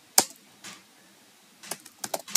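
A version name is typed on a computer keyboard while setting up a WordPress site: a single sharp keystroke, a softer tap, a pause, then a short run of close, crisp key clicks.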